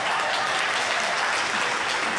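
A church congregation at a Texas Annual Conference worship service applauds its two associate pastors, a steady, dense wash of clapping filling the room evenly from start to finish with no voices over it.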